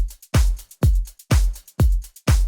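A melodic techno drum loop repeats a deep booming kick with a noisy snare and layered clap, five punchy hits in an even, steady rhythm.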